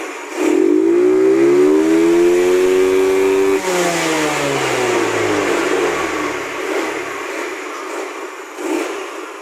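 A Yamaha Mio 115 hybrid scooter engine is run to full throttle, a loud rising rev that holds steady, then winds down and fades to a lower idle-like drone with some hiss.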